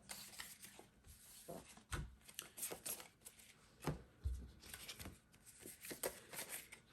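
Cards from an APBA hockey board game are shuffled by hand, a steady papery riffling with sharp slaps and flicks coming in bursts, close up.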